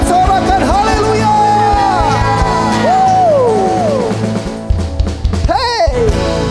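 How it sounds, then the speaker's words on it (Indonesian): A crowd of children at a Sunday school service shouts and cheers loudly and continuously, with rising whoops and yells, then a sharp burst of shouting near the end. "sorakan haleluya."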